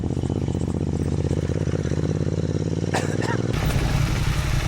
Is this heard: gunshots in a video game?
no